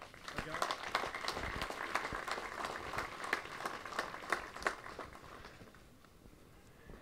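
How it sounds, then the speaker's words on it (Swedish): A small outdoor crowd at a pike fishing championship prize ceremony at Åsunden applauds with scattered, sharp claps that thin out and fade toward the end. "Genom en stor applåd!"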